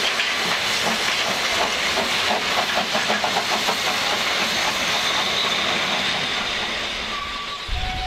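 Narrow-gauge Selketalbahn steam train running downhill into a valley, a loud, steady rush of steam hiss and rolling wheels with rhythmic clickety-clack from the rails, briefly joined near the end by a faint whistle-like tone.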